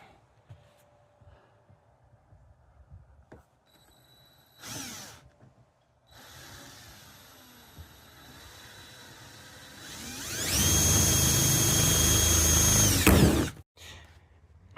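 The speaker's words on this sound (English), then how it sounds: "holes are drilled, one on each side" A power drill bores holes in a kayak: a few short bursts and handling clatter, then a loud sustained high whine for several seconds before it cuts off, close to the microphone.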